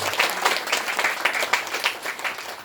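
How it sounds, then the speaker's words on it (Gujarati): An audience at a university event for World Disabled Day in Surat breaks into loud, sustained applause, a dense crowd of hands clapping evenly for the whole stretch. "તમે તમારા માટે એકવાર જોરદાર તાળી"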